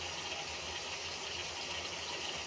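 Broth pours into a pan of potato and fish curry as a faint, steady watery rush with no break and no voices.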